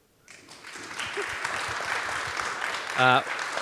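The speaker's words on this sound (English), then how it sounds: "Everybody give them a round of applause, please." Steady audience clapping at a panel event builds quickly and holds as a dense wash of applause, with a brief bright tonal blip near the end.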